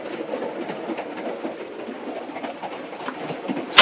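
A passenger train runs along the rails toward Washington with a steady rumbling roar and soft rhythmic clatter throughout, ending in a brief sharp clank.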